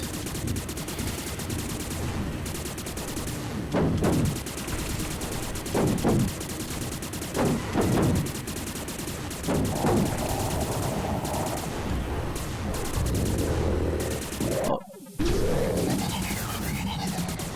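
Gunfire in the VR vehicle shooter Echo Wars - Road Rage VR, with continuous rapid automatic fire running throughout under engine-like game noise, broken by a few sharper bursts and a brief dropout near the end.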